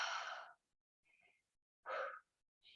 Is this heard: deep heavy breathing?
yes